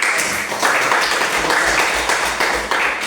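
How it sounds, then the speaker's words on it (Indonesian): Classroom students applaud a classmate in a dense, close burst of clapping that keeps going with slight surges across a few seconds. "Tepuk tangan untuk."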